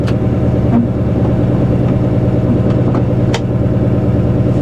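A 1963 Ford Galaxie V8 idles close by with a loud, steady, rhythmic rumble that carries on without a break, with a few faint clicks over it.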